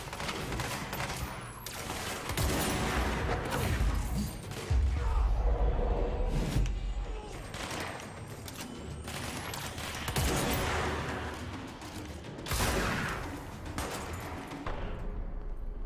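Sustained suppressing gunfire in the video game Control, a dense, continuous spray of shots with booming thuds and bursts that swell and ebb across a long stretch of combat noise.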